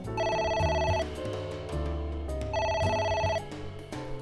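A phone rings in the AI: The Somnium Files video game, sounding as two loud bursts of a repeating electronic ring separated by a short pause over steady background music.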